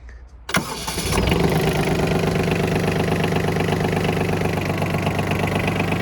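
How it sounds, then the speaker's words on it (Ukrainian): A Yanmar Japanese mini tractor engine cranks and catches, then settles into a steady, even idle that runs on without a break. "М'яка робота двигуна, зовсім відсутні картерні гази відсутні, і вихлоп є чистим."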